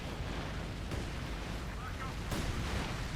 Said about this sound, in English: Incendiary barrages there going down